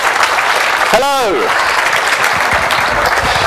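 An audience at a FOSDEM 2014 talk on making music with Arduino claps steadily and loudly to welcome a speaker, with a brief rising vocal whoop cutting through the clapping early on.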